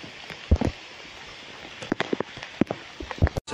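Rain pattering on rain covers, irregular close taps and drops of varying strength scattered over a soft background wash, with no talk.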